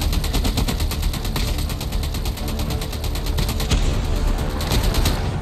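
Rapid bursts of nearby gunfire in an online video game shooter, dense crackling volleys repeating steadily over an engine-like rumble, loud and close throughout with no talking.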